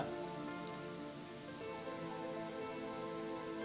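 Light, fine rain falls steadily as a constant soft patter on a surface, holding an even level throughout with no talk.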